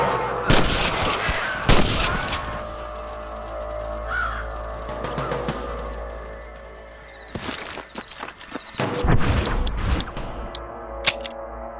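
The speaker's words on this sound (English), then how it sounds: "I can hear more gunshots." Gunfire in the Red Dead Redemption video game: several sharp, loud shots crack out in irregular clusters, mixed with cawing crows in the background.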